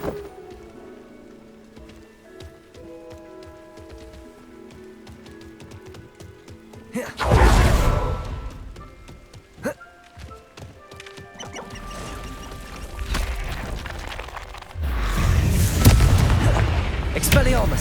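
Fiery Confringo spell blasts in Hogwarts Legacy, erupting as loud broadband bursts that roar and fade over several seconds amid busy battle effects and a speaking voice.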